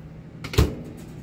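A microwave door in the kitchen of a 2021 Holiday Rambler Invicta 33HB RV gives one short thump as it shuts, close and fairly loud against a quiet room.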